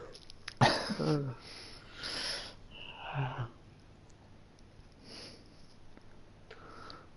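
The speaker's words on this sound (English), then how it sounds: "Sorry, I got a terrible cough." Several rough, throaty coughs close to the microphone, spaced a second or so apart, followed by quieter breathing and sniffing.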